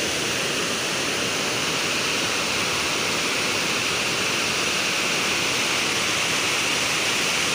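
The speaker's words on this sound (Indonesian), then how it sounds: "Terlihat gumpalan-gumpalan air putih, air terjun, seperti air terjun." Heavy water rushing over a Dutch-era dam spillway, pouring down like a waterfall in a loud, continuous, steady roar with no pauses.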